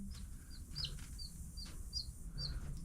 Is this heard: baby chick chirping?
yes